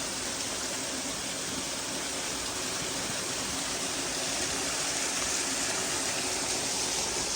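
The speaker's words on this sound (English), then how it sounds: "You can see this nice little natural water flow." Small natural water flow beside an old railway tunnel and stonework, a steady broadband rushing trickle heard close and continuous throughout with no talking.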